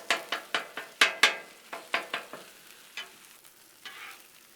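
Chorizo dropped onto a hot Blackstone griddle, heard as a string of sharp scraping taps from a spatula breaking it up, each followed by a short sizzle, close and moderately loud, thinning into a softer sizzle at the end.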